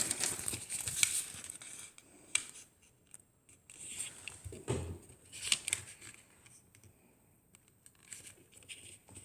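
Paper being folded into an origami cabinet, close quiet crinkles, creasing swipes and soft rustles in irregular bursts with pauses between, no talking.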